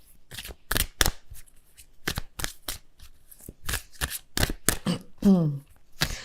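Tarot cards are shuffled in a rapid series of close riffling bursts, with a brief voice near the end.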